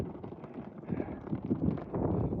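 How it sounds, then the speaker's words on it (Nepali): Strong wind gusts across a high Himalayan mountain trail near Gosainkunda, a rough low roar that buffets the microphone and swells toward the end, with a faint flapping flag mixed in. "हावा निकै चलेको छ यसरी हल्लिरहेको छ फ्ल्याग पनि फरफराइरहेको छ"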